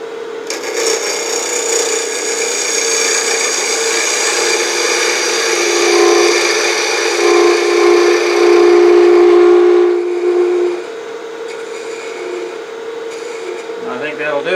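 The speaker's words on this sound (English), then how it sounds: "So I'm going to face this off, make sure it's slightly concave, and I'll do that with" A spindle gouge faces off a wood blank spinning on a lathe, making a loud, sustained rasping whine with a steady ringing tone that eases off near the end.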